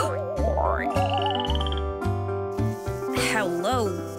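A frog croaks in a short series of close, rhythmic calls over playful background music, with whistle-like sliding tones mixed in.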